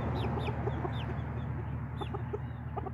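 A backyard flock of chickens clucks steadily and close, soft repeated clucks and chirpy calls layered over a constant low background hum.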